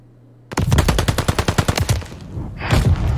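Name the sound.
gunfire in the video game Call of Duty Vanguard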